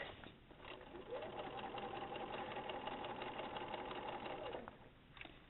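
A sewing machine runs steadily for several seconds, stitching a reinforcement X through fabric with a continuous mechanical whir, then stops; the work is close-up and quiet, with no voices.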